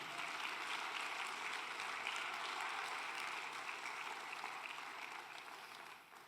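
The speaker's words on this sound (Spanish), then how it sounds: "Den un aplauso al Señor, hermano" Congregation applauding at a Spanish-language church sermon, a dense, even wash of clapping that holds steady then slowly fades, somewhat distant and soft, with no voices over it.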